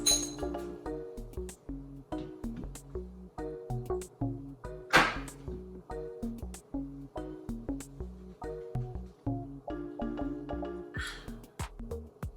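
Small shot glasses clink together in a toast, a steady run of bright, ringing glass taps repeating through the clip with a few louder clashes, close and fairly quiet, with no talking.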